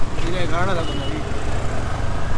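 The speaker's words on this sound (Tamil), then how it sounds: "வந்தாச்சு பெங்களூரு டிராஃபிக்கு. ஆஸ் யூஷுவல் ஸ்டார்ட் ஆயிடுச்சு." Steady rumble of Bangalore city road traffic and engines close by, with a person talking over the noise.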